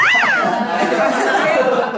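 A kitten's high, rising-then-falling meow, close and clear, trailing into a softer drawn-out cry over a noisy background.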